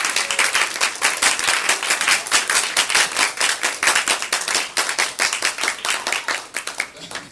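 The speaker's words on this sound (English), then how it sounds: "It's a good loud clapping table over there." Youth group audience clapping at an awards night, loud close claps with a distinct quick rhythm, some hands standing out near the front, continuing for several seconds before thinning.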